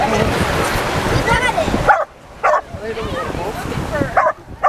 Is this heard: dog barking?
yes